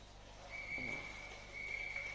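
A referee's whistle blows at full time in a women's football match, a long steady tone followed by a second blast, heard fairly clearly over a low background of crowd and ambient noise.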